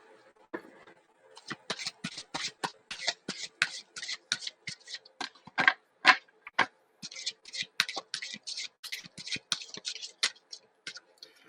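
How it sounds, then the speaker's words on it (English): Tarot cards are shuffled by hand nearby in a quick, irregular run of soft riffling snaps and taps, fairly quiet, with brief pauses between bursts. "Jan, let's get back to your shuffle."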